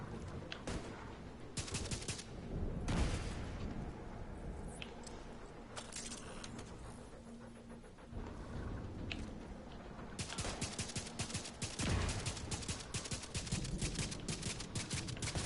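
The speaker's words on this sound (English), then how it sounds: "Any day now, turret. You can start shooting." Turret firing in The Division 2, with rapid bursts of automatic gunfire, a sustained stream of shots in the later part and scattered bursts earlier, moderately loud within ongoing game noise.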